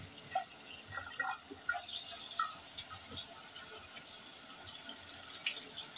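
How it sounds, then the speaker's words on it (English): Water poured into a cooking dish for a cheesy cauliflower bake, a close, continuous gurgling pour with small splashes and drips, unaccompanied by speech. "And then I'll add another half a cup of water."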